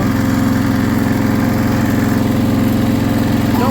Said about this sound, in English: Just tried to idle it down too much.